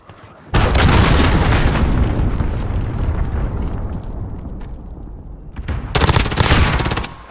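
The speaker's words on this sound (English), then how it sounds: "Allied cruise missile away." Call of Duty combat: a cruise missile launch roars out with a loud, sustained rumble, overlapping heavy gunfire and blasts, then another burst of rapid shots near the end.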